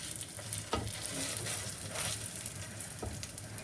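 Potato and beaten rice tikkis frying in oil in a non-stick pan, a soft continuous sizzle with occasional light utensil taps, fairly quiet and without speech.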